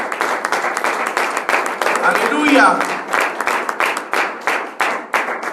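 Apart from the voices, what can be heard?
congregation applauding in church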